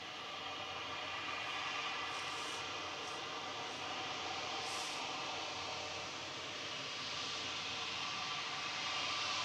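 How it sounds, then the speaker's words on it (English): A Cathay Pacific Airbus A350-900 departing Manchester Airport gives a steady, broad jet roar at moderate distance, holding level and slightly swelling toward the end. "Cathay Pacific 216 to Hong Kong, BLQD, A350-900 departing now"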